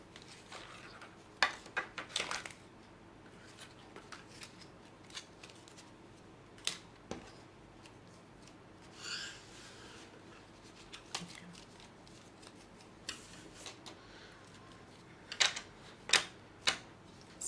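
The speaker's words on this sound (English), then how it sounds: "So I like shuffling till the cards fall out." A deck of reading cards is shuffled by hand, producing irregular bursts of quick riffling and slapping clicks with brief pauses between, close and fairly quiet in a calm room.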